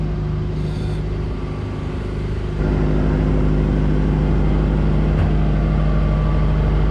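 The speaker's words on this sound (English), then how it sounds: "The generator's running, so sorry if you can hear that." A generator in the engine room of a Pearl 62 flybridge yacht gives a steady mechanical drone, loud and continuous with a low rumbling hum that thickens slightly partway through.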